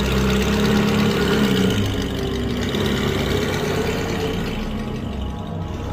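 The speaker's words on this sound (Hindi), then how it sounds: "रोड बिल्कुल ही सुनसान थी और गाड़ी तेजी से जा रही थी।" A car speeds along a deserted mountain road through a Himachal valley late at night, its engine a loud, steady drone that eases slightly toward the end.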